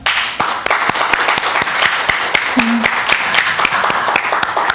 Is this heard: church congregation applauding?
yes